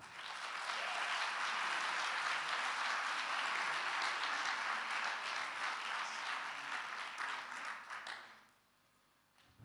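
An audience at a French song-prize final breaks into sustained, dense applause that holds steady for several seconds, then dies away abruptly.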